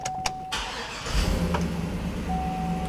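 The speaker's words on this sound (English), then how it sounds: "Engine sounds real good." Chevrolet Silverado 2500 pickup engine turning over and settling into a steady idle, heard close and moderately loud with a faint tone running through before and after.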